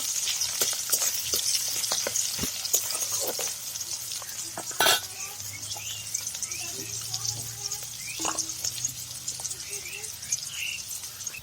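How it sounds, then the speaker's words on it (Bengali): Chopped onions fry in oil in a wok, giving a soft continuous sizzle with occasional stirring scrapes and clinks, moderately close, while faint background chatter comes and goes. "পেঁয়াজ কুচিগুলো একটু লাল করে ভেজে নেব"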